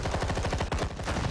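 Rapid gunfire from Batman: The Telltale Series, a dense burst of repeated shots in quick rhythm, loud and continuous throughout with no talking.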